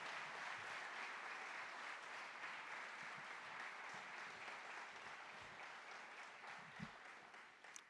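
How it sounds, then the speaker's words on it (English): A senior awards night audience keeps up long, even applause, a dense wash of many hands clapping at a distance that slowly tapers off, with faint scattered voices beneath. "Could you please join me in a round of applause and appreciation to our community"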